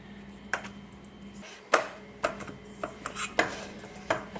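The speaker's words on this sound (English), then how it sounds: "Then spread it out with a spoon or spatula." A spoon scrapes and taps against a metal spring-form baking pan while spreading brown sugar paste for a pineapple upside-down cake, with irregular close clinks and scrapes over a few seconds.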